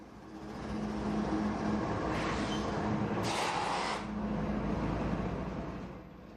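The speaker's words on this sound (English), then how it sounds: "These diesel-electric locomotives are hitched together. This train requires 4 locomotives." Freight train of wood-product cars hauled by four hitched diesel-electric locomotives in Oregon, a steady, loud broadband rumble with a low engine drone and brief hissing surges, no voices.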